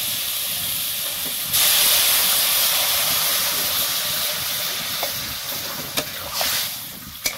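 Water is poured onto softened fried tomatoes and vegetables in a hot pan, setting off a loud, rushing hiss and sizzle that swells suddenly, stays strong, then eases with a few clinks near the end.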